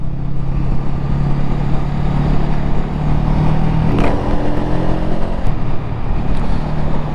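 A 2022 Honda Rebel CMX500 motorcycle accelerates to overtake on the road, its engine a loud, continuous onboard drone mixed with rushing wind noise that rises slightly partway through.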